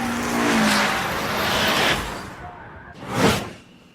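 A Mitsubishi Evo 3 races through mountain corners in an Initial D anime. Engine roar sweeps past with a tire squeal, then fades, then a second car whooshes by loudly.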